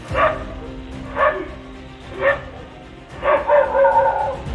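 A tied pet dog in a residential area of Idukki barks at a bear: four or five loud, close bursts of barking and yelping, the last ones running together, with no talk.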